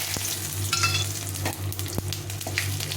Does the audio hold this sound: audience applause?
no